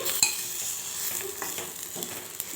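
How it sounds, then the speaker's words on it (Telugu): Steady sizzling of chillies frying in a pan, with a few soft stirring scrapes and clinks, close and moderately loud, no voices. "ఇప్పుడు వీటిని కూడా చక్కగా వేయించుకోవాలి"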